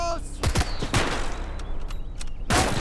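Gunfire in the World War II game Call to Arms Gates of Hell Ostfront, several sharp loud shots and volleys in quick succession, with shouted voices in between.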